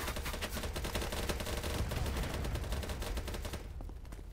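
Continuous gunfire in the BattleBit Remastered multiplayer game: dense, rapid shots overlap in a steady barrage, then thin out near the end.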